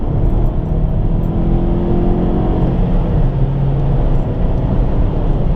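A 170 hp Alfa Romeo MiTo QV with a small engine drives steadily, its loud engine drone and road noise continuous throughout, with a slight shift in engine pitch partway through.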